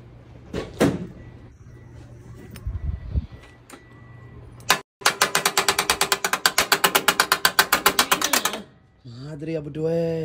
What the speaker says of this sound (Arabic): صوت ماكينه ذا غريب